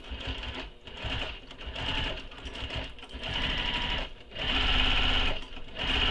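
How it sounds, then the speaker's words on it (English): Sewing machine stitching a front pocket of backpack fabric, running in steady bursts with brief pauses between runs, close and loud, with no talk. "I'm just stitching right on top of those previous basting stitches when we basted the front pocket here together."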